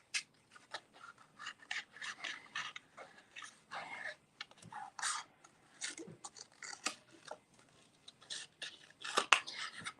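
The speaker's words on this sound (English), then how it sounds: "So let's just fussy cut this around." Scissors fussy cutting around a paper shape for a craft background, a series of quiet close snips and rustling paper movements in an irregular rhythm with brief pauses.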